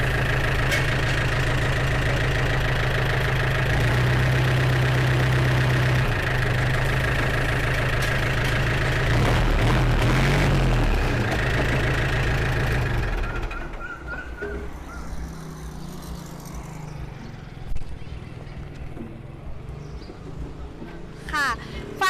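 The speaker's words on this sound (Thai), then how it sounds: "ไปดูในส่วนของไฮโดรลิกหลังนะคะ ไฮโดรลิกหลังของเรานะคะ ก็ขึ้นลงปกติ เช่นกันนะคะ" Yanmar EF453T tractor engine idling with a steady low rumble for about thirteen seconds while the rear hydraulics work, then the sound drops away to quieter background; someone talks over the engine.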